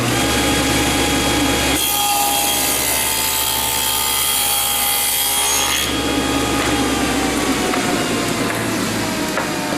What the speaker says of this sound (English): we're going to make a 3/4 wide dado that is 3/8 of an inch deep, right through the center of our ends.